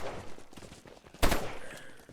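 Gunfire in the survival game Unturned: a burst of several muffled shots, led by one sharp, loud crack, heard close by amid game noise.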